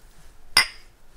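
Glasses clink once in a toast, a single bright, ringing chime that stands out sharply against near silence and decays over a fraction of a second.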